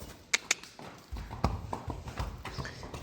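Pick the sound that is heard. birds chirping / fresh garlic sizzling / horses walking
horses walking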